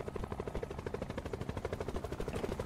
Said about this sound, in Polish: Czemu leci tutaj helikopter? Nad moją chatą.